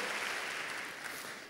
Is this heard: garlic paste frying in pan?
no